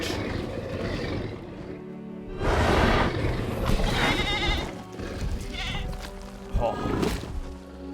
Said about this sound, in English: It's after the goat!